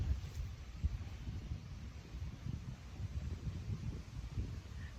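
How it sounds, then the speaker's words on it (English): Steady low wind rushing outdoors, buffeting close against the microphone in a continuous, fairly faint rumble with no break. "You can hear the wind blowing"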